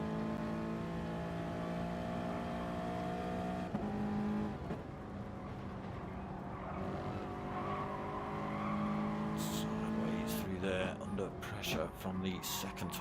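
Race car engines in a sim racing game, with Toyotas among the cars, drone at steady high revs with shifting pitch, gear changes and tyre squeal near the end, under continuous commentary.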